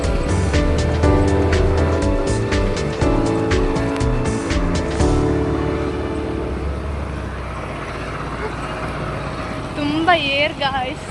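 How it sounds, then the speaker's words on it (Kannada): A scooter rides along a road, its engine humming close by with a rough rumble and wind rush. The engine sound thins out midway, leaving steady road noise, and a brief wavering tone rises near the end. "ನಾವೀಗ ಸ್ಕೂಟಿಯಲ್ಲಿ ಹೋಗ್ತಾ ಇದ್ದೇವೆ"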